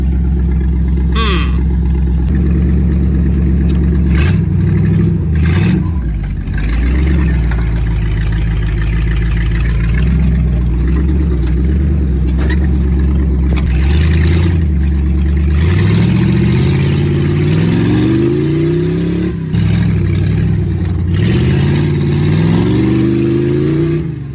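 A hot-rodded Jeep CJ5's engine rumbles loud and close, then revs hard in repeated rising and falling bursts, roaring up again near the end.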